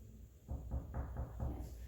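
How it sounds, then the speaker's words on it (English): Very light knocking on a front door, a few soft raps spaced evenly over under two seconds, close by and quiet against a low room hum. "Very simple, very light knocking."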